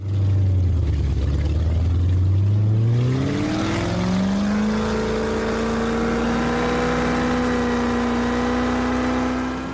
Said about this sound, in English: we recreated it with a speedboat, a racing boat out here in California at Lake Castaic